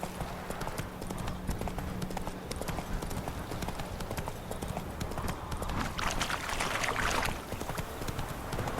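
Roach, a horse in the video game The Witcher III, gallops with a quick, continuous clip-clop of hooves on hard ground, heard close and alone throughout.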